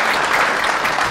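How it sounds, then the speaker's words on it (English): Applause for a speaker at a high school graduation ceremony, a dense, steady burst of clapping from a crowd, loud and continuous for just over a second. "Let us give him a round of applause."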